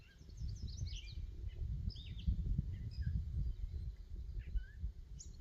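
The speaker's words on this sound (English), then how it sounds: "Listen to them birds." Songbirds chirp and whistle in short scattered phrases on top of Cold Mountain along the Appalachian Trail. Their calls are thin and moderately distant over a steady low rumble of wind.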